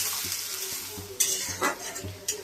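Onions browning in hot oil with cumin for a Bengali fish curry, a soft sizzle under a few sharp spatula scrapes and taps against the pan in quick succession.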